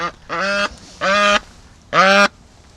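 Free range ducks give three loud, drawn-out quacks close by, each lasting about a third of a second with short pauses between, alone without talk.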